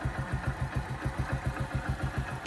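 A motorcycle engine held at raised revs while jump-starting a car with a drained battery throbs in a fast, even pulse, close and steady.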